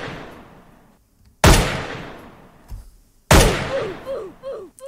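Two sharp gunshot sound effects in an edited YouTube Poop clip, each a loud sudden crack with a decaying tail, the first about a second and a half in and the second near three seconds, with faint background sounds between them.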